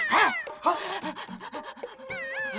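A voice imitates a dog panting with a rapid run of breathy, voiced huffs and tongue-lolling sounds, close and lively, with short pitched yelps between the puffs in a comic television scene.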